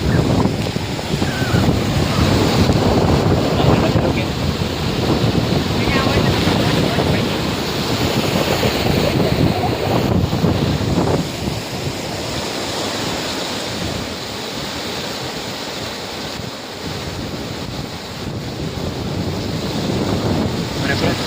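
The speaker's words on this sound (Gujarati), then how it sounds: "અહીંયા બહુ અવાજ તમને સંભળાય નહીં કારણ કે નદીનો ધોધ વહે છે" Loud, steady roar of a river waterfall near farm fields, continuous and close, with wind buffeting the microphone.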